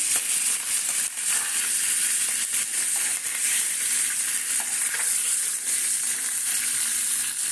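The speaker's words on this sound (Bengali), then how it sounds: "এগুলোকে এরকম হালকা করে ভেজে নেব" Sona puti fish fry lightly in hot oil, producing a loud, continuous, even sizzle that holds steady throughout, with no speech over it.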